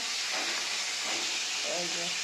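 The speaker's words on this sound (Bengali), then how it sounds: "মাছ ভাজছে" Fish fries in a pan in a home kitchen, producing a continuous hissing sizzle with a steamy rush that stays steady and fairly loud across the short stretch, with faint voice-like traces underneath.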